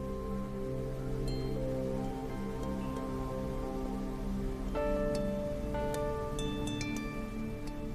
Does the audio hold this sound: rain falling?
yes